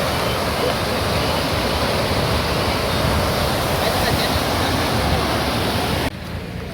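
Steady rain roars in a dense, broadband wash, loud and close, continuing throughout before dropping abruptly near the end.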